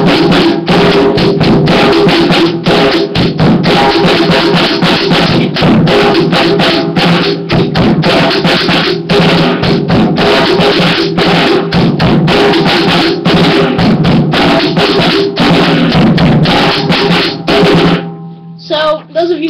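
Drum set drives a popular beat, loud and continuous with a steady kick and snare under constantly ringing cymbals for nearly twenty seconds before stopping abruptly.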